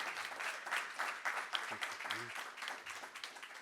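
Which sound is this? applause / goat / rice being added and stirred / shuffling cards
applause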